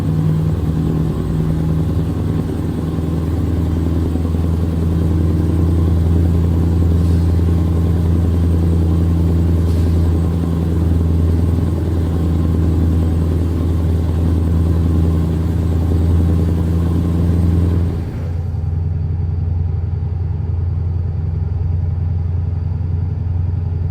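A Scania truck in Euro Truck Simulator 2 drives along with a deep, steady engine rumble and drone, continuous and even for a long stretch before the sound drops abruptly near the end, with no talking.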